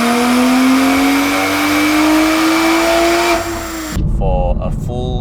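Toyota Supra 3.0 with a B58 engine, catted downpipe and full Veleno titanium catback exhaust, revving steadily with a rising, droning engine tone, loud and close, before cutting off and giving way to a burst of other sound.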